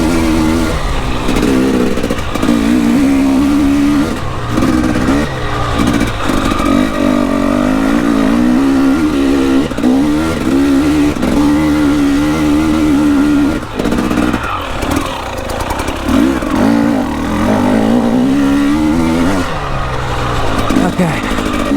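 An enduro motorbike engine revs loudly and continuously up close, its pitch climbing and dropping in bursts as the rider works the throttle, with a voice talking over it at times.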